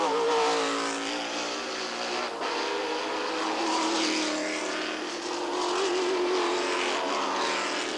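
Can-Am race cars roar past on the track at Mosport Park, engines whining and shifting as they pass in close succession, loud and continuous.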